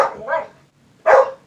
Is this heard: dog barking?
yes